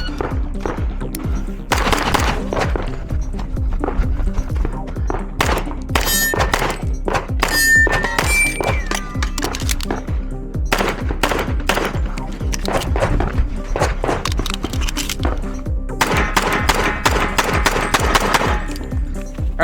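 Pistol shots fired during an IDPA match stage, with sharp, loud cracks in rapid strings and short pauses between bursts, plus metallic pings of hit steel targets and brief outdoor background noise.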